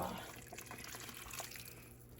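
Water poured into a cooking pan of beefy meatballs and egg noodles, a soft continuous splashing and gurgling trickle over about two seconds, fading slightly at the end, no talking.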